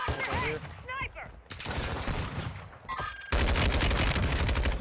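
Sniper gunfire in a multiplayer shooter video game comes as sharp cracks and bursts mixed with game effects and voices, ending in a loud, sustained volley of shots close by.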